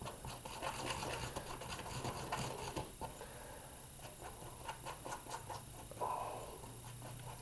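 Epoxy resin and hardener for a fishing rod handle are stirred thoroughly in a small container, giving a faint, steady scraping and rubbing with soft irregular taps, close by and without talk.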